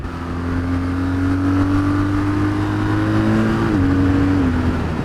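A motorcycle accelerating along country back roads, its engine note climbing steadily in pitch over a constant rush of wind, loud and close, with a brief dip before rising again.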